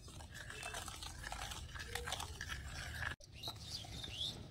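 Semolina, oil and powdered sugar being mixed by hand into a dry biscuit dough in a bowl, giving a steady close rustling and scraping with soft crunchy grains throughout, briefly cut off near the end.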